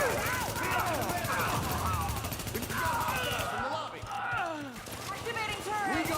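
Gunfire in the video game The Division, with rapid shots crackling through much of the scene under frequent talking voices and radio-like chatter, and a brief lull midway.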